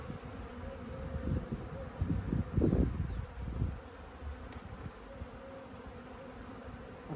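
A close, steady hum of honeybees rises from an open hive being inspected, with drones among them, swelling in a cluster of louder buzzes before settling to a softer drone.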